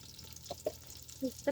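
Chopped onions fry in oil for beresta, a quiet steady sizzle broken by a few soft stirring clinks and scrapes near the end.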